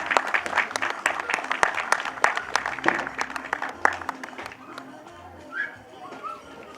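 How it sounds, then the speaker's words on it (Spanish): Scattered applause from the crowd at a karting race for the STIHL and Master 150 4T classes, sharp individual claps over a few seconds that thin out and fade toward the end, with some voices nearby. "merecen un fuerte aplauso"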